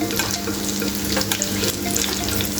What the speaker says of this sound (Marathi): छान असे क्रिस्पी होईपर्यंत आपल्याला हे तळायचे आहेत